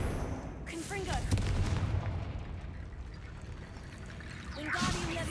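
A Confringo fire spell blast in Hogwarts Legacy, a booming explosive burst with rumbling crackle that rises and fades, followed by another surge of magical whooshing near the end.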